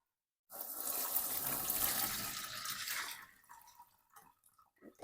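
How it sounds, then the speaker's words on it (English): Liquid for a homemade hair-growth shampoo pouring through a sieve, a loud steady splashing stream for a couple of seconds that tapers into scattered drips. "So I'm gonna go ahead and yeah, sieve out the water."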